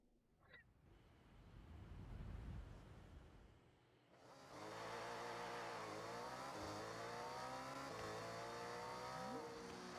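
A car engine revs loudly and steadily in the Forza Horizon racing game, a harsh, buzzing drone with shifting pitch that holds for several seconds after a brief quieter stretch of rumbling.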